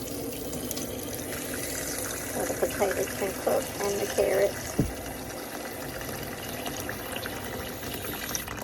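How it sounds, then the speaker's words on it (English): Tap water runs into a cooking pot holding cabbage, potatoes and carrots, a continuous splashing flow heard beneath a person talking. "we're going to add some water to the pot"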